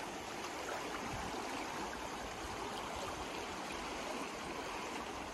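River water flows steadily past a floating electric generator, a constant soft rushing and trickling wash heard close up with no talk.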